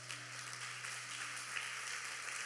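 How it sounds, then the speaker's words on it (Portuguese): A church congregation at an evangelical service in Rio de Janeiro claps together in a steady, dense patter. The applause is faint and even throughout, with no voices over it. "Querido, você pode aplaudir o Senhor?"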